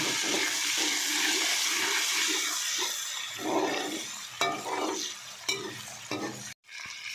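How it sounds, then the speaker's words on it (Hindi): Ginger garlic paste frying with golden onions in a pan, a loud continuous hiss and sizzle with several sharp scrapes and clacks of a spoon as it is stirred, then a brief drop in sound near the end. "अब इसमें अदरक लहसुन का पेस्ट शामिल कर देंगे और 2 मिनट के लिए इसे फ्राई कर लेंगे।"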